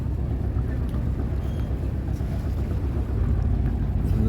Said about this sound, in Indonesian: Gelombang bikin kapal kesulitan sandar.